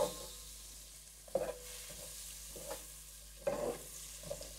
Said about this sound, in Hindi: इसमें डाल देंगे अदरक लहसुन,